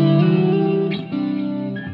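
Electric guitar played through a Dr Z Route 66 amp model on a Line 6 Helix, sustained chords ringing with light breakup and reverb, a brief change of chord midway, no talking.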